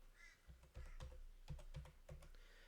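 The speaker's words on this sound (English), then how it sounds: "all you need to do is type in your username" Computer keyboard keys tapped while entering a username and password, a quiet irregular run of soft clicks in short bursts with brief pauses, close by, no talking.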